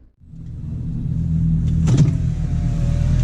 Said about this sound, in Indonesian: Akhirnya gue mundurin mobil.